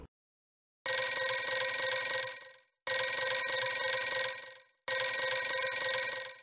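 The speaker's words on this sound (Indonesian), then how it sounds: "Kita tunggu sampai telepon tersambung." Telephone ringing tone as a call connects, three long rings of about two seconds each separated by short pauses, loud and alone with no talk.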